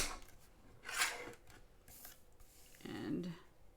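Paper being cut with scissors at a crafting table, two short snipping bursts separated by a quiet pause, fairly close, with no talking.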